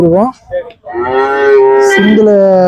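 Cattle at a Friday cattle market, with HF, Jersey and Sindhi cross breeds, give a loud, close, drawn-out moo. A shorter low call comes first, then one long sustained bellow fills most of the stretch.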